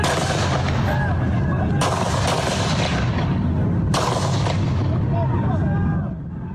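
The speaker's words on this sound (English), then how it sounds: "The gunfire goes on for quite a while." Loud shots from a long gun at the GOP congressional baseball practice, recorded on a cell phone, several sharp booming reports ringing out over ongoing noise, with voices faintly underneath.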